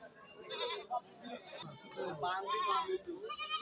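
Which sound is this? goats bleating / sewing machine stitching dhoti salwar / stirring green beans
goats bleating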